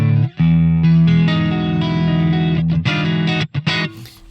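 Electric guitar through a Genome amp simulator set to a vintage Bassman tone, with sustained chords and note runs ringing warm and slightly driven, playing continuously with brief gaps near the end, no voices.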